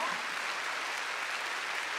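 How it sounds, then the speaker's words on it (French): A crowd applauding steadily, a dense even wash of clapping with no gaps. "Veuillez applaudir très fort Mariana."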